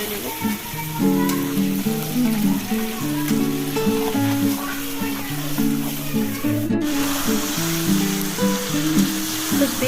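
Chicken pieces fry in a pan for a chicken curry with a loud, continuous sizzle throughout, while background music plays underneath.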